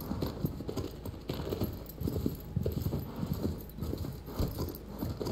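Hoofbeats from a horse ridden in the video game Shadow of the Colossus, a rapid, continuous galloping clip-clop that stays loud and close throughout over game ambience, with no talking.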